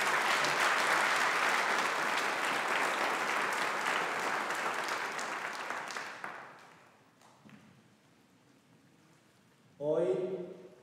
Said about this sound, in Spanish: Así que les pido un aplauso para el Padre Eric